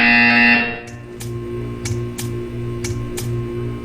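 A repeating electronic buzzer from the video game Portal 2 pulses about seven times in an even rhythm over a steady low hum, after a brief louder tonal passage at the start.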